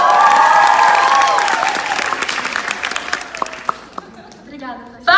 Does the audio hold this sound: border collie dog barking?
no